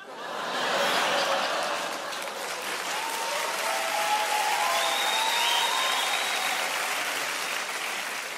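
Audience applause at a French comedy sketch show, a steady dense wash of clapping from a crowd with faint chuckles mixed in, sustained loudly for about eight seconds.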